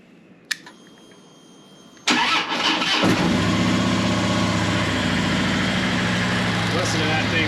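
A Harley-Davidson motorcycle engine starts after a click, catching about two seconds in and settling into a loud, steady, rumbling idle close by.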